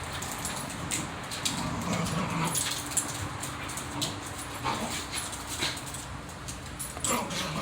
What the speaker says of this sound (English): We got dogs playing.